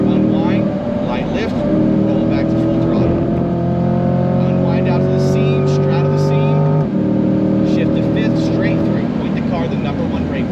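A Chevrolet C8 Corvette accelerates at full throttle on a race track at Spring Mountain, its engine note rising steadily through the rev range, dipping briefly at a shift and climbing again, loud and sustained, with an instructor talking over it.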